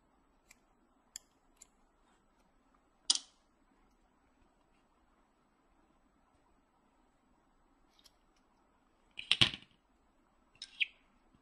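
A few sharp snips of scissors cutting rubber bands, isolated clicks spaced apart in an otherwise quiet room, with a quick double cut near the end.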